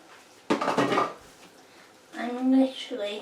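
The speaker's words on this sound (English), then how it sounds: "I'm literally just going to stir the noodles through." A utensil scrapes and clatters against a container as noodles are stirred through warm stir-fried vegetables, a short burst of clinks followed by a voice speaking.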